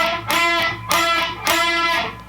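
Electric guitar playing staccato unison bends from the solo, three bright, distorted bursts in quick succession with short gaps between them, loud and close with no voice.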